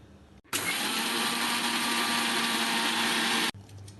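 Electric mixer grinder jar pulverising raw rice into flour, a steady loud whirring motor roar that starts abruptly, holds constant for about three seconds, then cuts off.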